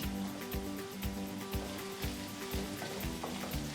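Baby corn and capsicum fry in a pan for paneer fried rice, a steady close sizzle with a rhythmic tapping of a stirring utensil about twice a second over a low hum.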